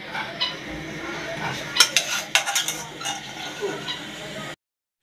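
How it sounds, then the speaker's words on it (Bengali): Hot peanut bar mixture poured from a pan and spread into a tray, with scraping utensil clatter and metallic knocks over a steady background rush, close and moderately loud, with no talking. "এখন আমি ঢেলে দিব, আমি এখন ঢেলে দিচ্ছি, বিসমিল্লাহ করে চারিপাশে দিতে হবে"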